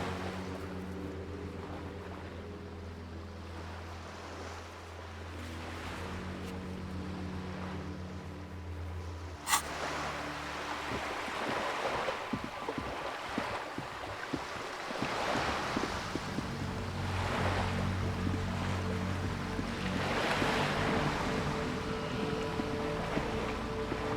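Video-game ocean waves washing against a small islet, soft rolling surges with a low windy rumble, fairly faint and steady, with a sharp click partway through and no talking.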